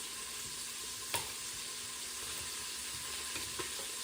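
Bacon and onions sizzle steadily in the stainless steel inner pot of a Pampered Chef Quick Cooker, a constant hissing fry with a couple of faint clinks from stirring, no talk.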